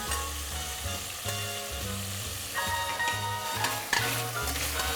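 Garlic frying with browned beef in a pot for wine-braised pot roast, a continuous bright sizzle with intermittent stirring scrapes and a low background hum.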